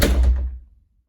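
A hotel room door swings shut with a single loud, close thud that rings briefly and fades out within about a second.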